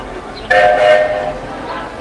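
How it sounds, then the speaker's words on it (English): A Disney park train sounds a brief whistle blast over ambient crowd noise, fairly close. "So maybe we'll take a ride on the train."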